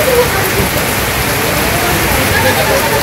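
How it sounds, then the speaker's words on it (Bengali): Rain falls heavily in a Bangladeshi village, a dense, steady hiss of drops on surfaces lasting throughout, loud and close, with no voices. "বৃষ্টি নামছে"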